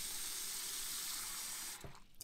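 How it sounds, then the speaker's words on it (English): Tap water runs steadily into a pot of potatoes, a continuous close hiss of filling that cuts off near the end, leaving only a few soft clunks. "Gonna fill it with water to cover them up."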